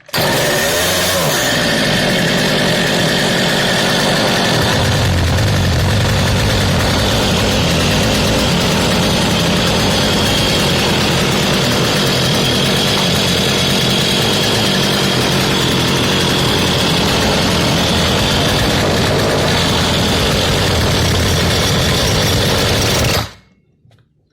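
A Partner P351 XT chainsaw, freshly overhauled, fires up and runs at a steady, loud two-stroke idle close by with a buzzing, slightly uneven tone, no voices, until it cuts off abruptly at the end.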